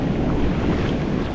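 Strong sea waves and gusting wind just before a typhoon make a steady, loud, close roar of rushing water and wind buffeting the microphone, with no voices.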